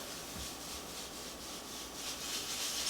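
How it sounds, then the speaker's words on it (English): A bristle brush scrubs a paste of baking soda, Dawn dish soap and hydrogen peroxide across a glass stovetop, a steady close gritty rubbing with slight rhythmic pulses throughout. "it makes a little bit more of a noise with this little bristle brush"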